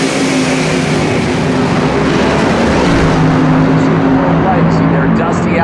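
An AA/fuel dragster at an NHRA Heritage Series meet roars loudly and steadily as it launches, its engine note climbing slightly, while a commentator talks over it.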